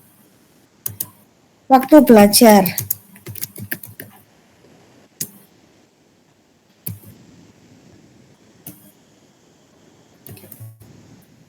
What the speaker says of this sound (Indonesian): saya ngetik di sini